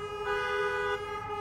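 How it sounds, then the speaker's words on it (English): Car horns honk steadily in a sustained, overlapping blare, loud and close, with no talking. "you hear all that honking going on?"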